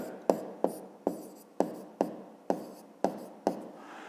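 A pen strikes paper in eight crisp, evenly spaced taps and short strokes while numbers are written down, close up and fairly quiet, with no talk.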